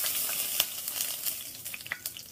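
Food sizzles and crackles on a hot cast iron pan, a steady hiss dotted with sharp pops at close range, with no talking.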